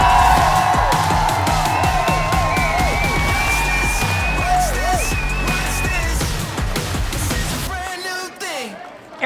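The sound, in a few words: audience applause and cheering for Arian Foster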